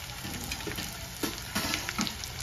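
Dry and wet spice masala for a chicken and mutton masala fries in a pan with a steady, bright sizzle, broken by a few soft stirring scrapes.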